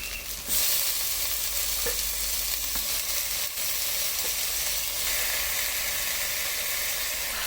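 Chicken hitting a hot pan of sautéed spice powders for a Munnar-style chicken curry sets off a loud, steady sizzle with broad hiss, a sharp burst at the start and occasional stirring scrapes, with no talk.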